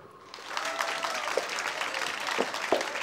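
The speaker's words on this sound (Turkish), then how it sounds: "Alkışlar." Steady applause from a studio audience watching a Turkish sitcom episode, a dense wash of clapping that swells after a quiet start and holds at moderate loudness.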